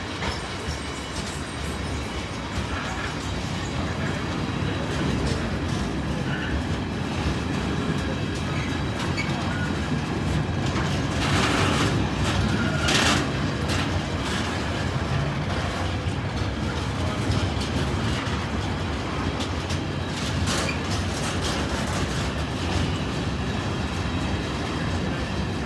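A train rolls steadily past at a level crossing, a continuous loud rumble of wheels and carriages with some clickety-clack and brief wheel squeal, slowing as it goes.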